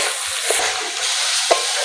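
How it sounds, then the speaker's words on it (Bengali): Ginger-garlic paste frying in a pan, giving a close, steady hiss with a couple of soft spatula knocks, one sharper tap near the end. "আদা রসুনটা ভেজে নেব।"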